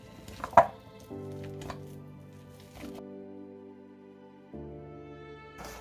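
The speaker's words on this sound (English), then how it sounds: "Now I'm going to mash the 5 bananas that I already placed in this container." Five ripe bananas are mashed in a container for Honduran-style banana bread, giving a few soft squishy thumps spaced about a second apart over sustained background tones.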